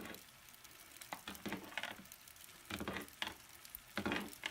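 A pot of millet milk porridge bubbling and sizzling as it boils, with soft irregular pops and bursts of hissing at low volume, no voices.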